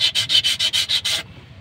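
Wood sanded by hand, seven quick rhythmic rubbing strokes in a row, close and loud, then a faint scuffing tail, with no voices.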